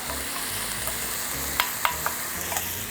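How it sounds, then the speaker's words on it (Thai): Fermented soybean paste and pork stir-fry in a hot pan, a dense steady sizzle close by with a few crisp spatula scrapes and taps standing out near the middle; no talking. "เราทำการผัดเต้าเจี้ยวกับหมูตรงนี้ นะครับ ให้เข้ากันนะ"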